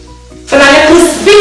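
Anchovies frying in hot oil in a pan, a loud dense sizzle that bursts in after a quieter start and holds steady, swelling again near the end.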